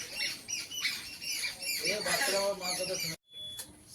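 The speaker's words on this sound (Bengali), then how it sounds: "ডাকছে মাগুলো বাচ্চাগুলোকে ডাকছে" Mother birds call to their chicks in a repeated run of harsh squawks and chirps, loud and close, carrying on for about three seconds before a brief silence and a few fainter calls.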